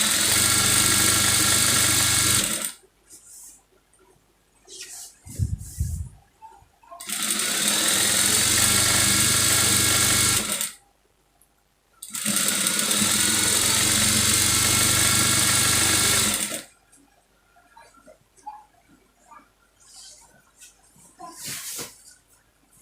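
A sewing machine stitches the waistline of a lined lace dress in three long, steady, loud runs, separated by gaps of quieter handling sounds and soft rustling.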